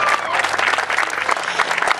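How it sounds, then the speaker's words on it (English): Audience applause at a Republican Party political event, dense and steady clapping from a crowd filling the whole two seconds at a close, loud level, with faint voices mixed in. "I'm going to ask that you give a big round of applause"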